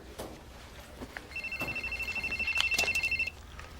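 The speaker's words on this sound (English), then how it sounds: "Your cell phone. It's ringing." A cell phone rings with a rapid warbling electronic tone lasting about two seconds, moderately close, amid faint background rustle and no talk.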